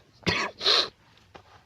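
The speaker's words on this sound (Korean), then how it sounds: "죽으려고 그러네. 그 기침을 자꾸." Two harsh coughs in close succession, followed by a faint short throat sound, close to the listener with no talking.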